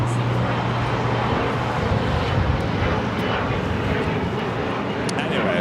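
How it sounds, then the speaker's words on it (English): A United Airlines Boeing 787-10 Dreamliner from Newark lands at LAX with a steady, moderately loud jet roar. Someone talks over the engine noise. "This is United Airlines 2445 coming in from Newark on the"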